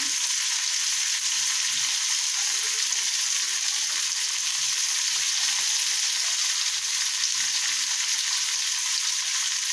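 Spices sizzling and frying in a hot pan for chili bhaji, a steady loud hiss filling the whole stretch with no pauses and no voices.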